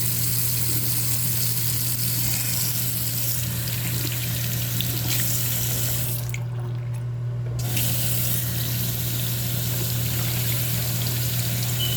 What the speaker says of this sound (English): Let me turn the cold valve off and see how much hot water I can get.